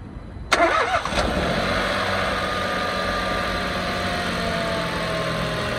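A Renault Captur with the 0.9 TCe engine cranks briefly and fires up, then settles into a steady, close idle that runs on alone.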